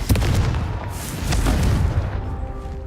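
A Confringo blasting curse from Hogwarts Legacy bursts into a loud, close explosive boom with a deep rumbling tail that swells again before fading, and no voices.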